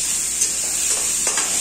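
Onions and chopped green chilies sizzle steadily in hot oil in a pan, a close, continuous hiss with a few soft stirring scrapes, no voices present.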